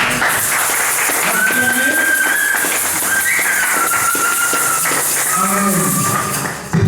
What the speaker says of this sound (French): Alors nous pouvons encore acclamer Jésus.